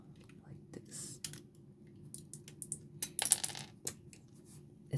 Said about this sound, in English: It's my second mechanical keyboard.